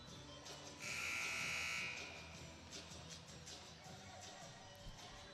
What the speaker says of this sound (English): Buzzer rings after the timeout